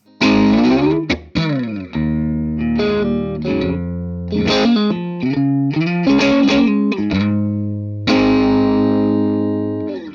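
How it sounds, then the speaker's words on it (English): A dry, slightly overdriven electric guitar plays a riff through an amp, with chunky notes and short bends, close and loud, no added echo. "Right now, for Jimmy, it's going to be that guitar into that amp, and it's going to sound like this"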